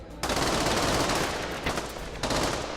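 Rapid mech cannon fire in the video game Project Nimbus, a loud, dense stream of shots running almost unbroken, with brief dips before it surges again.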